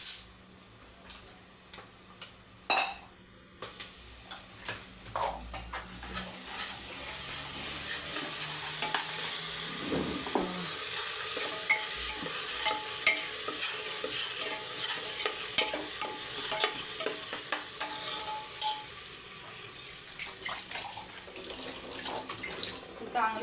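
Ginger garlic paste frying with onions in a pan, a soft continuous sizzle under scraping stirs and clinks of a spoon against the pan, with a few sharper knocks early on.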